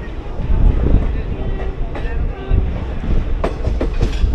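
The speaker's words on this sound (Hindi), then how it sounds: "और ट्रेन जो है अभी भी 15 मिनट देरी के साथ मेरठ छावनी मेरठ कैंट पहुँची है।" A passenger train arrives at Meerut Cantt station, its rumble and clattering wheels loud and close, with a few squeals and knocks and some voices underneath.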